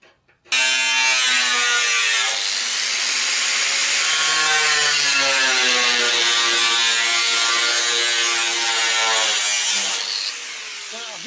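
Sheet metal being cut for an air intake panel: a loud, continuous buzzing, rasping cut with strong ringing tones that shift in pitch, running about ten seconds close up before tapering off.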